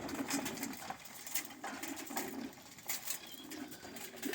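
Show pigeons coo in a soft, steady murmur at a pigeon show, with brief rustles and wing flutters close by and no one speaking.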